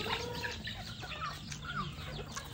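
Chickens cluck and chatter softly at a rural farmyard, scattered short calls overlapping at a moderate distance over a low outdoor background.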